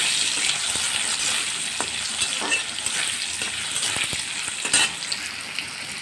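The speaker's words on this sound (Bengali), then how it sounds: "আলুটা সুন্দর করে ভেজে নিব" Potatoes frying in a pan for a snakehead fish curry with tomato, a steady hiss of sizzling oil with occasional stirring scrapes, close and continuous throughout.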